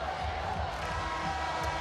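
Crowd of spectators at a 2016 NSAA Class D2 girls state basketball championship between Wynot and St. Mary's, a steady diffuse arena murmur with light cheering throughout, no distinct voice standing out.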